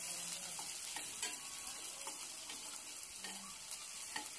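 Onion frying in hot oil with cloves, peppercorns, cinnamon and bay leaf makes a quiet, continuous sizzle. Soft crackles and stirring taps are scattered through it, with no voices.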